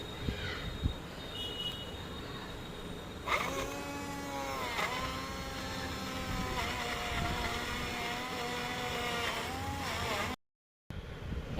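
A small portable blender whirs up mango into smooth pulp, its motor rising in a loud whine midway and holding a steady pitch before cutting off near the end.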